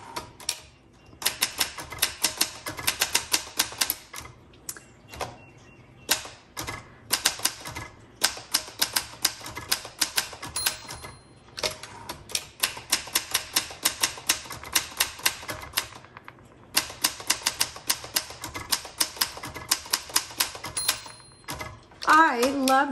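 A 1966 Olympia SF travel typewriter with a cursive typeface clacks in fast bursts of crisp keystrokes, pausing between runs, with a carriage bell ringing near the end.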